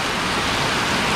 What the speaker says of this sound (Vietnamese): Thật sự trong lúc này Bình Dương đang mưa lớn như lúc này